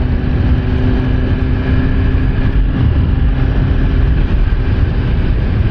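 A Suzuki GSX-R1000R motorcycle rolls slowly through traffic, its engine a loud, steady low rumble mixed with broad wind noise, close and continuous without talk.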